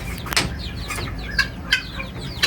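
Hens feeding on grain at a backyard coop give several short, nearby clucks, scattered irregularly over a low outdoor background.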